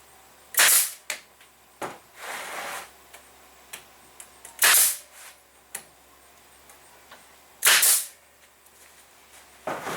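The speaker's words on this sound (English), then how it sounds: "I'm going to take your staple gun" A staple gun firing into pallet wood while building a coffin: three sharp, loud snapping shots several seconds apart, with lighter clicks and handling knocks between them, close by.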